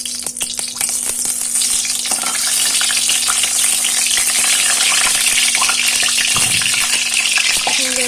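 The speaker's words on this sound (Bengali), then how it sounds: "ভাজছি তো মাছ।" Fish frying in mustard oil in a wok, a loud, close, continuous sizzle with scattered sharp crackles and pops, plus a steady low hum underneath and no voices.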